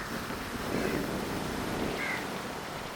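Sea waves washing onto the shore, a soft continuous rush blended with wind noise on the microphone, faint and steady with no talking.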